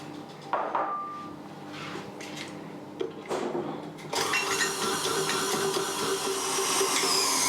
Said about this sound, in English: I'm going to give the butter a good whiz in the mixer so that it gets nice and soft